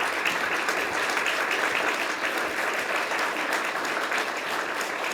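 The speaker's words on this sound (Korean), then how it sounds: "큰 박수로 김정욱 협회장님을 맞이해주시기 바랍니다" Sustained applause fills a large hall as an audience welcomes the president of the Korean Bar Association at a judicial reform public hearing, steady and dense throughout with no talking.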